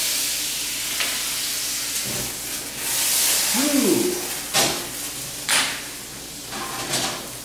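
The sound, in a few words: brandy added to a hot cooking pan, sizzling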